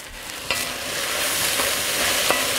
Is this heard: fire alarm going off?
no